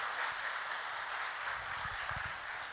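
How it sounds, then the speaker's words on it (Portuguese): A church congregation applauds during a Portuguese-language Sunday morning service, a sustained, dense wash of hand clapping filling the room, steady and fairly loud throughout. "dê um aplauso ao Senhor nessa manhã"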